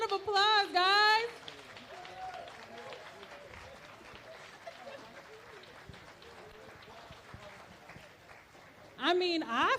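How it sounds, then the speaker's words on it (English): Sustained crowd applause for a performing group at a Los Angeles community event, steady and moderately close, with a voice speaking briefly at the start and again at the end. "Give them a round of applause, guys."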